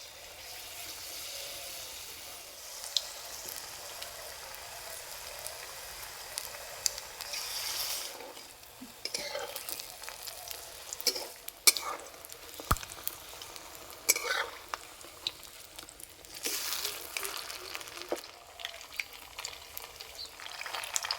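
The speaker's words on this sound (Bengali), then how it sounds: "পিঠেগুলো ভাজার সময় বেশি করে জাল দেবো না, আস্তে আস্তে জাল দেবো আর ভেজে নেব।" Gokul pithe, sweet Bengali dumplings, frying in oil on low heat: a soft, steady sizzle with bursts of spatter and occasional clicks of a utensil, fairly quiet and close.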